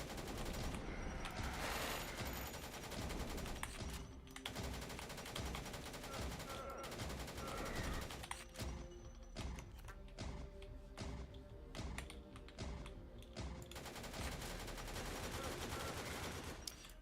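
Rapid gunfire from a retro DOS-style first-person shooter game, dense sustained bursts of shots over thumping music and effects, loud and continuous throughout with no clear talking.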